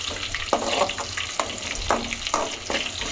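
Peanuts and a small onion fry in a pan, a constant close sizzle broken by repeated scraping stir strokes at a steady, unhurried pace.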